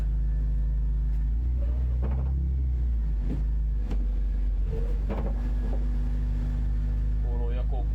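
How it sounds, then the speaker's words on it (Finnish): Several dull clunks from the driveshaft and gearbox area of a BMW E46 knock at irregular intervals beneath a steady, low engine rumble close by, as the car is moved gently in first gear. "Kuuluu joku aikamoinen kolina tästä jostain keskilinjalta vaihdolaatikon perästä tai kardaanin puolelta."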